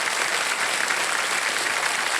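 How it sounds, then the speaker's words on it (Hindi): Studio audience on the quiz show Kaun Banega Crorepati applauding a contestant's win, loud continuous clapping with no voices over it. "तालियां बजती रहे डेनियल को भी।"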